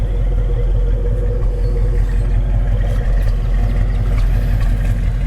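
A 1968 Ford Mustang fastback with a 390 V8 and new dual exhaust idles steadily close by, a deep, even rumble with a regular low pulse that holds without change throughout.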